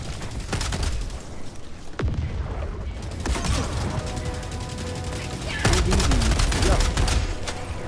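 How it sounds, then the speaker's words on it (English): Rapid bursts of turret gunfire and booming blasts in the video game Helldivers, dense and loud, with players talking over the shooting. "Watch out, the turret's still firing at us."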